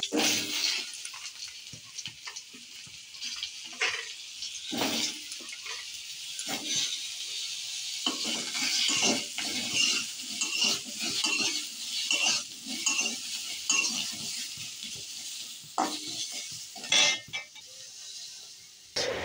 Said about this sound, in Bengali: 5 ফোড়ন দিয়ে এবারে আলুটাকে একটু ভাজা ভাজা করে নেব।